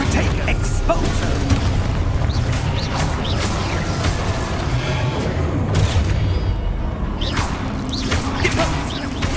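Confringo and Descendo spell blasts from Hogwarts Legacy go off as repeated booms and whooshing bursts in a dense, loud, continuous stretch of game combat noise, with a voice heard faintly in the mix.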